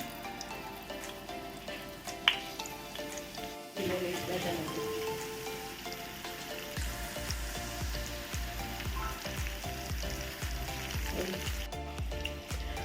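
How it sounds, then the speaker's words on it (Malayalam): Fish pieces and curry leaves fry in coconut oil in a pan, a crackling sizzle that starts quieter and grows into a busy, bubbling fry with close popping. "അടുപ്പിൽ വറുക്കാനായിട്ട് പാൻ വെച്ച് ഇതാ വെളിച്ചെണ്ണ ഒഴിച്ച് അതിലേക്ക് മീൻ കഷ്ണങ്ങൾ ഇട്ട് അതുപോലെ കുറച്ച് കറിവേപ്പിലയും കൂടി ചേർത്ത് മുരിയാനായിട്ട് വെക്കുന്നുണ്ട്"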